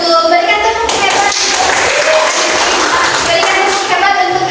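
Classroom of first-grade children in an Islamic studies lesson doing the rhythmic "tepuk hebat" clapping cheer, loud and busy clapping mixed with children's chanting voices throughout.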